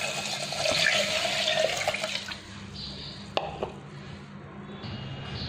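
Water poured into a cooking pot in a home kitchen while making Delhi-style udat gosht, a broad splashing gush for about two seconds that fades to quieter trickles and a few small knocks, with no talking.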